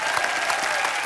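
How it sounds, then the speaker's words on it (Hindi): Studio audience on The Kapil Sharma Show, a TV comedy show, breaks into a short burst of thick, continuous applause from many hands. "जोरदार तालियां युवराज जी के लिए।"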